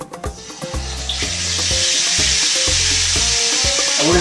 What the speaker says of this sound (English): I'm gonna go ahead and drop it in the fryer.